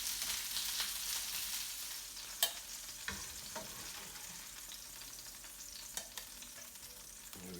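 Chicken pieces frying in a pan for coq au vin: a soft, steady sizzle with a few sharp clicks and pops, heard alone at low volume.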